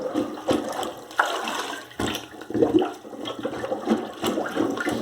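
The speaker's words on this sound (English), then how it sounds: "it's hard to get all the water out with the plunger" Water sloshes and splashes in irregular surges as a plunger pumps inside a toilet bowl, close by, with no voices.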